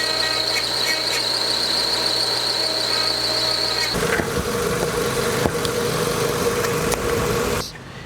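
A steady high-pitched mechanical whine from the CVT transmission fluid pump of a 2017 Subaru Outback over an idling engine, which drops away halfway through, leaving a lower hum and rattling.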